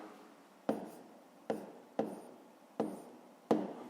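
Handwriting with a pen on paper during a math exercise, five distinct taps or strokes spaced about a second apart, quiet and close, with faint scratching between them.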